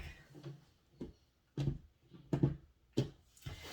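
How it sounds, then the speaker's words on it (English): Several short papery slaps and shuffles of a tarot deck being cut, coming in separate bursts with quiet gaps between them, close by. "Let me cut the deck."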